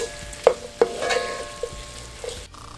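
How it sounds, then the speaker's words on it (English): Cabbage fries with bacon in a pan, a soft background sizzle with a few sharp clinks of a utensil against the pan, close by and quiet, with no talking. "Now saute that for only about 2 more minutes."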